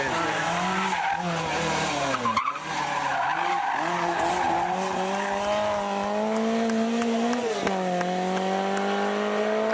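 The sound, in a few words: Group B rally car racing and skidding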